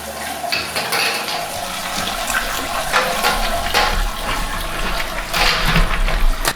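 Wort drains steadily from a homebrew mash tun through a ball valve, a continuous splashing, trickling water sound that runs close and fairly loud throughout, with no talking.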